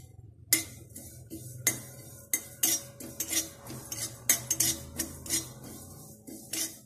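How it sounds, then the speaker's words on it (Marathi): Sesame seeds dry-roasting in a hot kadhai, stirred with a metal spoon that scrapes and clinks against the pan in irregular sharp taps, close and clear, with no voices. "त्यात आपण हे तीळ घालून भाजून घेऊया"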